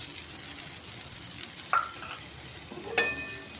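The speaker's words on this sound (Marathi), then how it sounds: "आपण कांदा टाकणार आहोत" Onion dropped into a pan of hot oil with chillies for restaurant-style veg Kolhapuri, a steady low sizzle with a couple of sharp metallic clinks from a spoon on the pan, close and fairly quiet.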